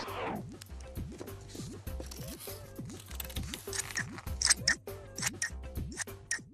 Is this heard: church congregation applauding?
no